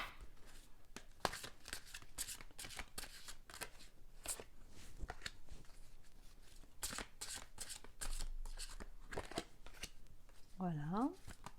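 Gaia oracle cards being shuffled and drawn by hand: a close, soft run of riffling flutters and card slaps in irregular bursts, with a brief voice near the end.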